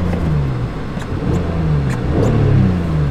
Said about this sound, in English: Well, now it revs just fine.